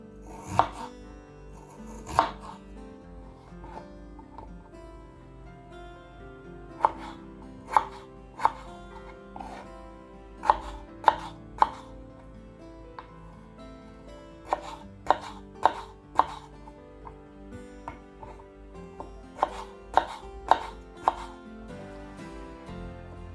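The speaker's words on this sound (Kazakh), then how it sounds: "картопты аршып, турап, жуып, тазалап, осылай кесеміз" A knife chops potatoes for french fries on a cutting board, giving sharp, close knocks in uneven bursts with short pauses between runs of cuts.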